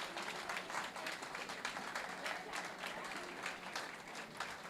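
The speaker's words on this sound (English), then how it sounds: "Let's give it another round of applause for the students of Sylvania Heights Elementary." An audience at an elementary school event claps for the students, a steady, faint wash of applause from many hands lasting several seconds.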